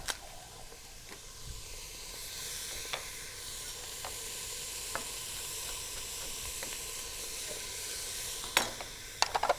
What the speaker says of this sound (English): Now I'm dry sauteing this onion right now